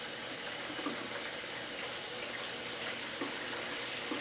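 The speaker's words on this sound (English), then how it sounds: "there's the water coming in" Water steadily rushing into a GE dishwasher as it fills, a continuous hiss and splash at moderate level with no pauses and no talk.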